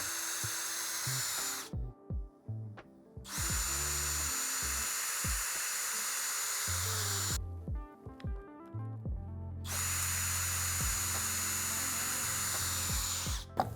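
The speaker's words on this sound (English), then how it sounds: "drill a series of overlapping holes between those two outer holes" A power drill bores a row of overlapping holes through a doweling jig to cut a slot for a domino-style joint: three long, loud, close whining runs separated by short pauses, with lower rumbling tones underneath.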